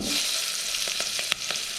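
Green chillies and onion fry in a pan for egg biryani, a continuous hiss of sizzling oil broken by a few sharp scrapes and taps of a spoon stirring, close and alone without talk.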